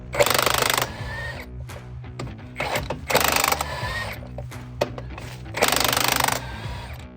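A Milwaukee cordless impact gun fires in three loud, harsh bursts of rapid hammering, used on a Scania truck during a brake pad change, with quieter clanks and handling noises between bursts.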